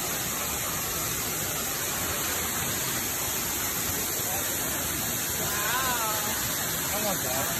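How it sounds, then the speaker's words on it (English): A waterfall at Ohiopyle State Park, heard from close by as a constant loud roar of rushing, spraying water, with a faint voice rising briefly over it near the end. "Now we're going behind the waterfall."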